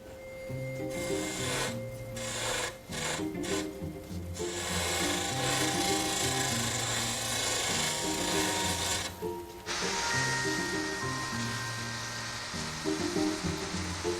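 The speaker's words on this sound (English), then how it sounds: "I'm using some sandpaper just to smooth it all in" Sandpaper smoothing carved wood on a 100-year-old German antique clock, a steady rasping rub that carries on near and close for most of the stretch, with brief pauses and tool-like clicks, and no talk.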